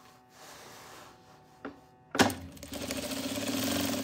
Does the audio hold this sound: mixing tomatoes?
no